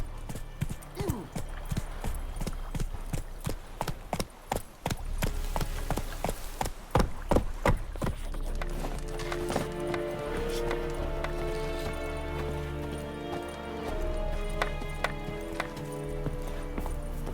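Roach, a horse in The Witcher 3, gallops with loud, close, rapid rhythmic hoofbeats that slow into steady clip-clop under a swelling musical score.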